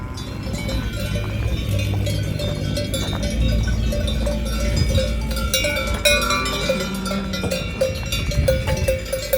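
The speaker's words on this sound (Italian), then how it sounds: "Vedete le mucche che attraversano la strada" Many cowbells clank and jingle irregularly at close range as cows cross a mountain road at Passo Rolle in the Dolomites, with steady background rumble and occasional hoof sounds.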